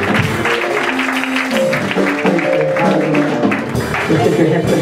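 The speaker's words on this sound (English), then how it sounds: "I'll give the Lord a good clap for my God." A church congregation claps together at an evening service, a steady dense patter of many hands blended with voices and music rising around it.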